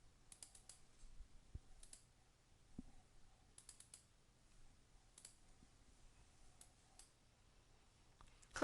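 Computer mouse clicks during software navigation, a handful of faint, sharp isolated clicks spaced irregularly in a quiet room, with no talking.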